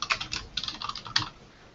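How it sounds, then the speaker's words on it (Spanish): Rapid typing on a stiff computer keyboard, a close, clattering burst of keystrokes that stops after about a second and a quarter, with no talking. "hoy estoy con el teclado duro"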